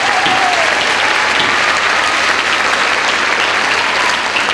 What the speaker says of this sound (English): Please, another round of applause for Miss Washington.